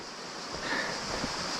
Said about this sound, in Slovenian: Tole je ta letni izvir.